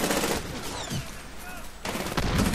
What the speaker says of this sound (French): Et on tire complètement dans le vide parce que l'ennemi est parti.